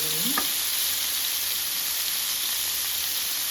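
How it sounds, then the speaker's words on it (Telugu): Fish frying in shallow oil in a pan gives a continuous dense crackling sizzle, close and even throughout, with one brief tonal chirp near the start and no speech. "రెండు వైపులా మంచిగా కుక్ అవ్వాలి ఫిష్ తినడానికి"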